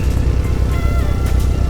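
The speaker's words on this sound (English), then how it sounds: "I'm standing behind my car watching his car back out" A 2G DSM car backs out with its engine running nearby, giving a steady, continuous low rumble throughout the short moment.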